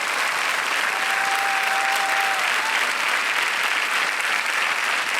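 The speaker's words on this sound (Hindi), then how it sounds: "जोरदार तालियां बज जाए इनके लिए." Dense, steady applause from the studio audience of the KBC game show, loud and continuous throughout with no pauses or voices over it.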